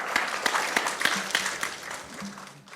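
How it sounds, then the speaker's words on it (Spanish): A church congregation in an auditorium claps together for God after a prayer, a dense steady round of applause carrying on throughout with a few faint voices underneath. "Dale un fuerte aplauso al Señor."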